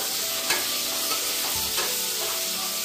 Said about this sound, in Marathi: आता परतून घेतो लगेच.